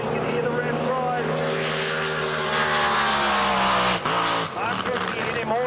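A racing powerboat at a Windsor powerboat race revs back up to speed, a loud, close, buzzing engine whose rising harmonic whine climbs steadily, briefly dips, then surges again.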